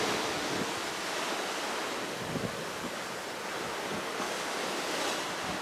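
Ocean water rushes steadily past a cruise ship sailing off New Zealand, a broad continuous wash mixed with wind buffeting the microphone, fairly faint with no voices.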